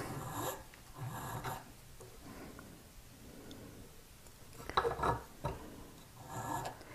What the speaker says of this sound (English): Once you have these completed with the filing